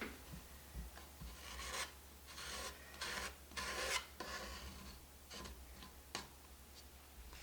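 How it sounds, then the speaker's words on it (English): A tool scrapes chipped paint off a surface irregularly, making quiet rasping strokes in uneven bursts. The sound is close but low in level, with no talking. "I want to scrape it off irregularly"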